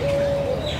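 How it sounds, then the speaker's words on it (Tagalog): Birds cooing and chirping at a park café, a steady cooing call with light chirps, clear and fairly close, no voices. "Yung mga huni ng ibon o"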